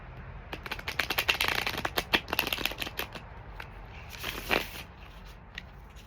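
Tarot cards being shuffled by hand in quick crisp riffling bursts, a busy patter of soft card slaps that builds, pauses, then surges again briefly near the end, with no talking.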